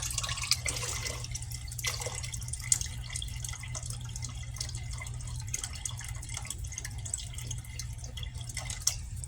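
Water poured from jugs into a pot for birria, a steady close splashing and trickling stream that runs throughout, fairly quiet, with no talking.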